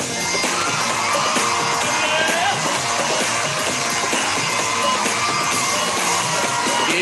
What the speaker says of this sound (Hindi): मैं चाहता हूं एक जोरदार तालियां हो जाए सोमा शंकर जी के लिए